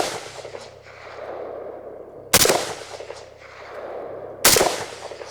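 Two loud, sharp AK47 rifle shots fired at a target 200 yards out, spaced about two seconds apart, each with a short echoing tail over quiet outdoor background.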